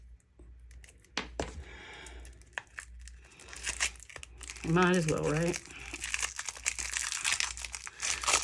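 Plastic wrapping crinkles and tears in bursts as a mail package is cut open with scissors, with a voice speaking briefly partway through.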